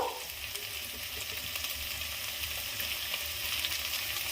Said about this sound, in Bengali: বাড়িয়ে ভাজা ভাজা করব, ঘন ঘন নেড়ে দেব, নেড়ে ভাজা ভাজা করব